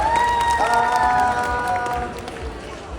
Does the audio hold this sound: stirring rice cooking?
no